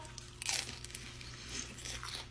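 Someone bites into a crunchy veggie spring roll, giving a soft close crackle of brittle wrapper followed by a few quieter crunches, with no talking.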